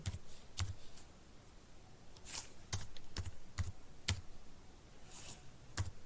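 Keystrokes on a computer keyboard while HTML code is entered, in irregular bursts of sharp clicks with short pauses between, close and fairly quiet.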